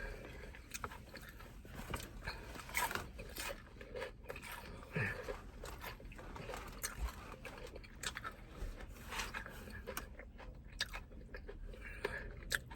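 Someone eats fried pickles and fried chicken up close, with repeated crunchy bites and wet chewing in an uneven rhythm over a low background.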